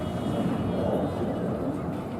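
A Dassault Rafale Marine fighter jet makes a slow flypast at an air show display, giving a steady, loud broadband roar that holds for the whole stretch with a faint voice beneath it.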